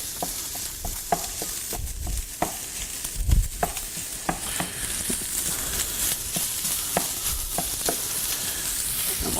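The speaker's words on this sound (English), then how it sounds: "So we'll get this sausage nice and brown here." Sausage browning in a pan sizzles steadily up close, and repeated clacks and scrapes of a utensil stirring the meat break through the constant hiss.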